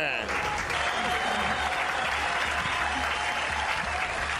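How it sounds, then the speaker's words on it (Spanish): Studio audience applause on a television talk show, a loud sustained burst of many hands clapping that holds steady to the end, with no talking. "¡Aplauso, aplauso!"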